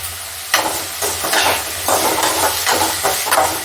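Sautéing for toor dal sambar in a pan, a constant sizzle broken by several louder stirring scrapes at irregular intervals, close and without talk.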